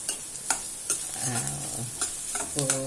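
Onions sautéing in a pan for radish thokku, a steady sizzle with repeated sharp scrapes and stirs of a spoon against the pan, close and clear with no voices.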